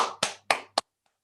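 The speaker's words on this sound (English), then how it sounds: "Big round of applause, Norma" Four sharp hand claps from a single nearby person greet an award winner at an online speaker awards ceremony, spaced about a quarter second apart, ending in silence.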